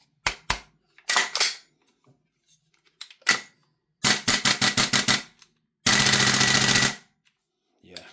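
Double Eagle DD PCC gas blowback airsoft rifle firing during a function test: sharp single shots, then rapid bursts of crisp snapping reports around the middle and a long continuous full-auto string near the end, loud and close with no talking.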